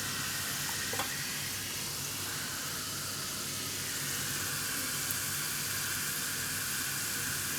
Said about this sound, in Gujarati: તેલમાં લસણને લાલ થવા દેવું થોડુંક